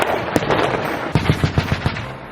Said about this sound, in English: all of a sudden you just hear gunfire going off in the distance